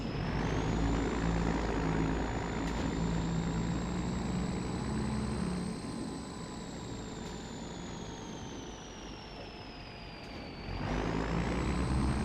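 A heavy farm truck engine idles steadily while warming up in the Farming Simulator 25 game, a continuous low rumble with a faint whine, dipping briefly in the middle before returning at full level, with no talk.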